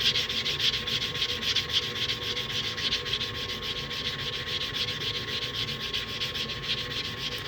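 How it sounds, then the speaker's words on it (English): A filing block rubs along the edge of a state quarter coin ring, making a steady, close, continuous rasping scrape that stays even in loudness from start to finish. "hit this edge right here with a filing block"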